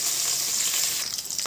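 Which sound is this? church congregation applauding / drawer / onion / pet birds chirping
onion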